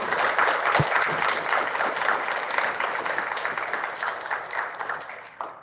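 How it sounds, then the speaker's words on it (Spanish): An audience applauds steadily at a book presentation, a dense even clapping that holds for several seconds and only fades slightly near the end. "Vamos a darle un aplauso al ingeniero"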